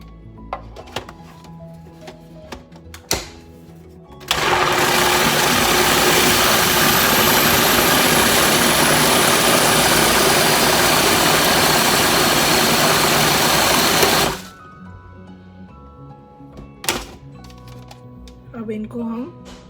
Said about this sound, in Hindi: और इनको ग्राइंड कर लूँगी।